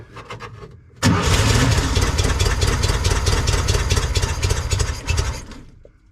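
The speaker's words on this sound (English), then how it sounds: "So now we'll hit the starter." A starter motor cranks an engine with rapid whirring churns for about a second before the engine catches and runs at a loud, even idle for several seconds, then trails off.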